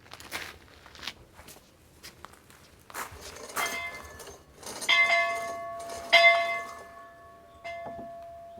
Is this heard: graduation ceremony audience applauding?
no